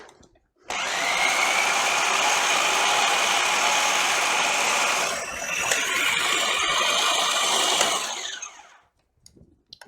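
Food processor with a large canister blending green pea guacamole, a loud steady whirring motor that runs for about seven seconds, dips briefly as the contents shift, then stops, with no talk.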